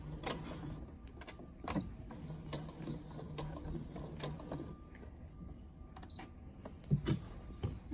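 A sewing machine stitching forward on placemat fabric, giving quiet clicking mechanical ticks and brief whirring runs in an irregular rhythm, close up and faint, with no voices.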